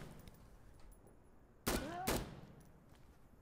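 Two sharp, loud bursts of rifle fire ring out in Insurgency: Sandstorm, each a short crack with a ringing tail, spaced about half a second apart over a quiet background hum.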